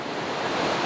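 Tomara Waterfall in Gümüşhane sends a steady, dense rush of falling water, loud and continuous with no break and no voices.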